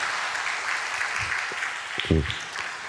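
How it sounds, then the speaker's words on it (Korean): A church congregation gives a short round of applause during a Sunday service, steady clapping filling the room with a brief low voice-like burst near the end. "야, 박수 한번 주시죠."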